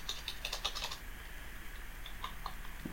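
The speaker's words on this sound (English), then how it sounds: "I'm trying a new keyboard layout here." Close typing on a laptop keyboard held on the lap, a quick burst of clicky keystrokes followed by a few sparse, lighter taps.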